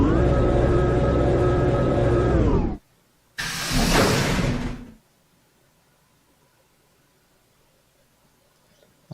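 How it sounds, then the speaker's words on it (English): In the video game Virtue's Last Reward, heavy chromatic doors close with a long, loud mechanical rush, a short gap, then a second sliding whoosh that ends in near silence. "Chromatic doors closing."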